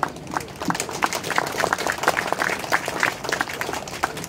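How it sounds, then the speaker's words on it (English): Warm applause from an audience at a memorial gathering for event staff, with many hands clapping in a steady patter at moderate volume for several seconds. "So please let's give them another round of applause"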